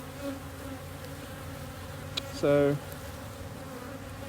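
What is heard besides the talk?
honeybees buzzing at hive entrance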